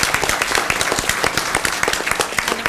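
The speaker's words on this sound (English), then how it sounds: "Let's give them another round of applause." Audience at a graduation ceremony giving the graduates a round of applause: dense, steady clapping from many hands, loud and close, filling the short moment without any talking.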